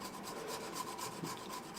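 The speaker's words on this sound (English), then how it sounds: "sanding, just taking off a little bit here and a little bit there." A wooden knife handle being hand-sanded after rough shaping on a grinder: a soft, continuous rhythmic rasping of quick back-and-forth strokes, close and fairly quiet, with no voices.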